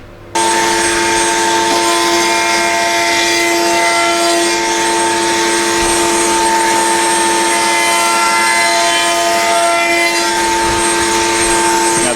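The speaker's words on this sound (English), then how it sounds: "I have the dust extraction pulling down. Turn the table on." A router table spins a chamfer bit while a dust extractor pulls from below, starting suddenly and holding a loud, steady whine with strong tonal hum for the whole stretch, close and unbroken.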